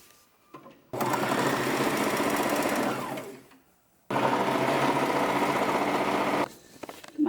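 A sewing machine stitches the folded side seam of a salwar top. It runs in two loud, steady bursts of rapid whirring with a short pause between them, then stops. Nobody talks.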